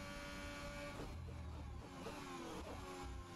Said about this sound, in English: we are getting maximum speed out of this Ferrari engine